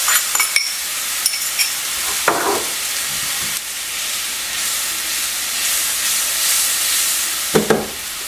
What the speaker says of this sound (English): in our skillet, we're going to add a half a cup of dry white wine and 4 cloves of garlic